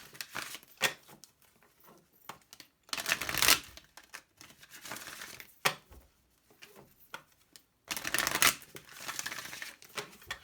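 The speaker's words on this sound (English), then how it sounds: "One last shuffle." A deck of cards is shuffled several times, with bursts of riffling and soft flicking separated by quieter handling sounds, close and fairly quiet.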